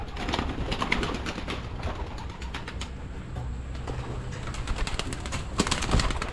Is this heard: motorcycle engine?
no